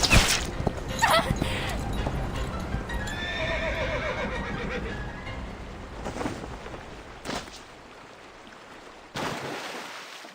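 Horse neighs and clip-clopping hooves in a video game chase scene, a whinny rising over galloping steps and background game sounds, fading toward the end with a couple of sharp hits.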